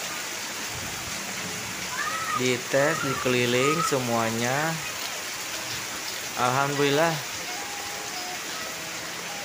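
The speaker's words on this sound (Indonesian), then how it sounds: "langsung diuji alam, yaitu dengan hujan deras" Heavy rain falls steadily on a roof lined with cable-coated ducting and gutters, a constant broadband hiss running throughout, with someone talking over it in the middle.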